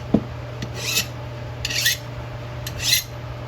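A finer file sharpens the edge of a restored hand tool in three slow, rasping strokes about a second apart, close and moderately loud against a quiet hum.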